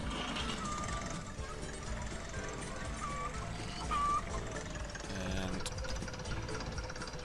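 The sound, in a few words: tractor engine in the video game Agricultural Simulator Historical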